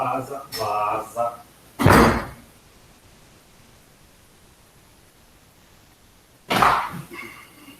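A dog barks indoors during an online university lecture on electrochemical techniques, loud and close, in several sharp bursts at the start, then a long stretch of near silence before one final bark.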